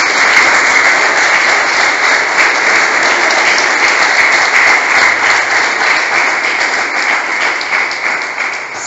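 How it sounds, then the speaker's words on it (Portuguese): An audience applauds during a Catholic sermon, honoring Saint Agnes; loud, close, sustained clapping fills the whole stretch at an even intensity, tapering off slightly at the very end. "Você pode aplaudir Santa Inês,"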